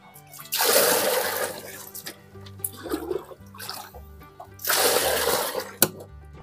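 Dirty water from a glass fish tank holding a pair of snakehead fish is poured and drained away in two loud gushing splashes, with quieter trickling between them over background music.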